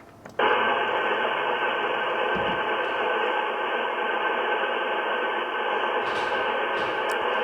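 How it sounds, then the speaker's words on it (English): Steady hiss of radio static on the 40-metre amateur band fills the whole stretch, with no clear voice emerging; a very weak station stays buried beneath the noise. "it does sound as if there's someone there under the noise floor"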